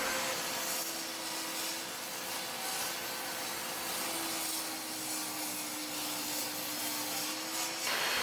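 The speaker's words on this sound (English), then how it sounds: "Then we rip down to width. I want 2 inches wide. A couple passes at the table saw and we're good to go." A table saw ripping a wooden board to width, a steady whining cut with a constant motor tone over broadband rasp lasting several seconds, close and continuous with no talk.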